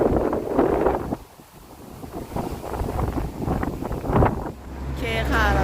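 Strong wind buffets the microphone on a beach, with grassy dunes and wind turbines nearby. The gusts roar loudly and unevenly throughout while someone talks over them.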